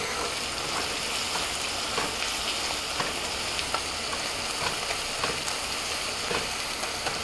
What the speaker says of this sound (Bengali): এক মিনিটের মতো একটু নেড়ে চেড়ে এটা ভেজে নেব।